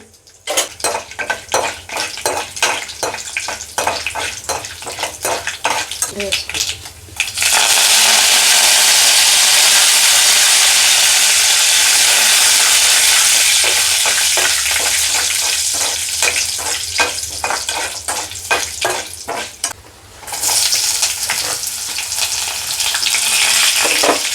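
Loud oil sizzling and crackling as cumin, mustard seeds and chana dal fry for tempering in a pan, with a spoon clinking against the metal at the start and end.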